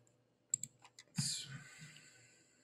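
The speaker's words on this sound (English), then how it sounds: "We click on it." A computer mouse clicks quietly a few times in a row, close but soft, followed by a brief louder rustle of hand movement at the desk.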